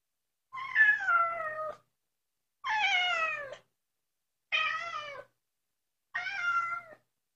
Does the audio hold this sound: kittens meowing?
yes